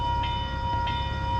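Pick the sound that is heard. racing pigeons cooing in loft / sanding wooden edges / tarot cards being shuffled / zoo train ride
zoo train ride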